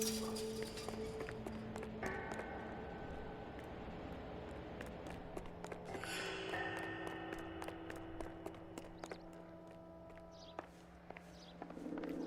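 Horse hooves clip-clopping in L.A. Noire, a steady, fairly quiet run of rhythmic footfalls set against a low background hum and scattered game sounds, with no talking.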